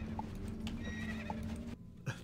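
A horse whinnies over a steady bed of crowd or room noise, with hooves clip-clopping through the background and a brief nearer sound near the end.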